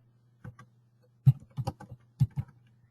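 Keystrokes on a computer keyboard while entering a new item name and fee into real-estate seller's estimate software, a few separate clicks and short bursts of taps, close and fairly quiet with no talking.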